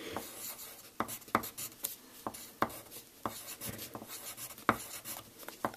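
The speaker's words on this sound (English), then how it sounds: "So let me write one down." Pen or pencil writing numbers by hand on paper while working out a three-digit multiplication by 999, heard up close as quiet scratchy strokes and taps in irregular bursts, with no talking.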